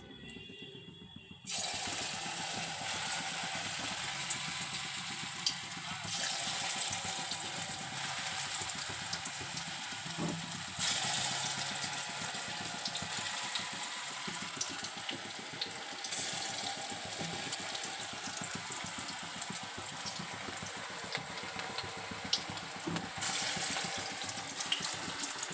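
Coconut and cabbage fritters dropped one at a time into hot oil, giving a steady, continuous sizzle and bubbling that holds evenly throughout, close and moderately loud with no talking.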